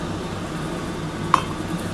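A lid set onto a cooking pan holding a Bengali ridge gourd and potato poppy-seed dish, one sharp metallic clink standing out against a low steady background hum.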